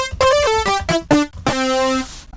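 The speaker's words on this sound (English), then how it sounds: "HS Hero guitar preset." A bright plucked lead from the HS Hero guitar preset on the free Tyrell synth plugin plays a short melodic phrase of several staccato notes, then one longer sustained note, clear and alone.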